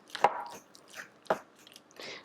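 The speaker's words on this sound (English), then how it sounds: "And then whisk together. I still don't have a whisk, so I'm going to use a fork." A fork taps and scrapes against a bowl as an egg substitute is whisked for banana bread, with a few sharp clicks over a soft, irregular clatter, close and fairly quiet.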